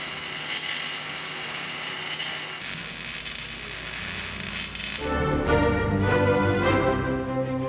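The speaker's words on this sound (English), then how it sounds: "gonna cut this weld right here and a couple tacks off" Angle grinder or cutting tool biting through a weld and tack welds on a steel vehicle frame: a continuous loud whine that shifts pitch, then turns harsher and more rumbling as the disc bites into the metal, close up, with no voices.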